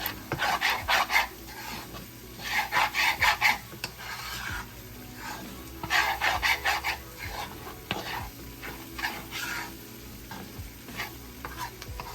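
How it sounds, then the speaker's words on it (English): Gravy being stirred in a pan with black pepper added, close scraping strokes coming in rhythmic bursts over a soft simmer, with no voices. "Just keep stirring it, because if you leave it alone, it may burn."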